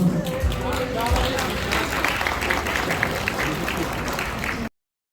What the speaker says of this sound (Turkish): Büyük alkışlar sahnede alacağım.